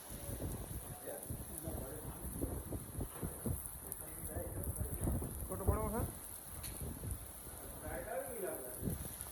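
The season's first rain falls on a farm field as a steady, moderate hiss, while someone talks loudly over it for most of the stretch.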